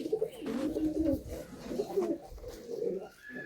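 Malwai and Madrasi pigeons in a loft give soft, rolling coos close by, several overlapping calls continuing steadily with no talk.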